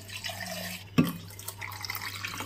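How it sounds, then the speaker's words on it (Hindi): Water is poured into a mixer grinder jar holding soaked kodo millet and lentils for dosa batter in a home kitchen: a brief splashing pour with drips, close and moderately quiet over a steady background hum. "जो पानी निकाला था इसको मिक्सी के जार में डाल देंगे।"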